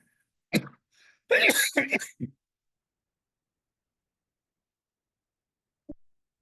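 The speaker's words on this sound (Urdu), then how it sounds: "پھر مجھے کھانسی آتی ہے" A man in an online meeting with a dry throat from medication gives a couple of close, harsh coughs and throat clears in a short burst, then silence and one faint click.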